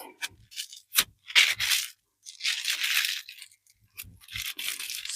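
Crepe paper twisted in the hands for a giant paper rose, with close intermittent rubbing and crinkling bursts, a few short sharp rustles followed by a longer scrunching twist and softer handling.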